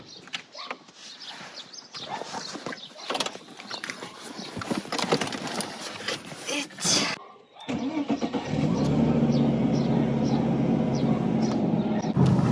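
A car engine starts and the vehicle pulls away; busy mixed noise gives way to a steady, loud engine drone that holds for several seconds.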